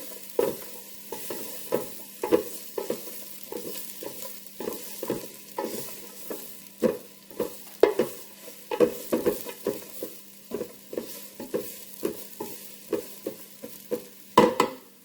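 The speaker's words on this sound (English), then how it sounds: "I've got about a half of an onion sliced. I'm just going to stir that around and let it get a little bit of color on it" Half an onion, sliced, frying in a pan while being stirred. A low sizzle sits under rhythmic scraping spoon strokes that come roughly every half second, close up, with a louder scrape near the end.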